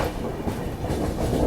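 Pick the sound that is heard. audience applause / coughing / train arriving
train arriving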